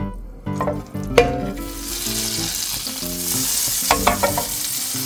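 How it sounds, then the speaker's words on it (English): A knob of butter melts and sizzles in a pan on low heat, giving a steady close frying hiss with a few clinks of utensils near the start and no talking. "Now we're going to throw in that knob of butter in there. Let that butter melt."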